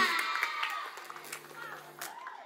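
Scattered clapping and cheering from a crowd, children's voices among them, at a Hari Santri Nasional ceremony at Yayasan Akmala Sabila as a Duta Santri sash is pinned. The sound is fairly quiet and mixed with shouting and chatter.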